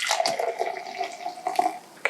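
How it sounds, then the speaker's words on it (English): Water poured into wine glasses at a festive Christmas dinner table, a steady trickling splash with ringing glassy tones and a couple of sharper clinks, close and alone. "we're gonna pour water in our wine glasses right now"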